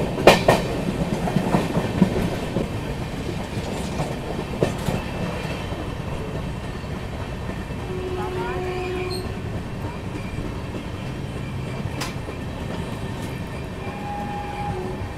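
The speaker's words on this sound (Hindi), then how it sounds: "यहाँ पर अभी अपनी महाबोधि एक्सप्रेस पहुंच रही है भभुआ रोड रेलवे स्टेशन पर" Mahabodhi Express arriving at Bhabua Road railway station in Bihar: heavy rolling rumble with wheel clatter and screeching brake squeals as the train slows past a small four-platform stop, loud and close.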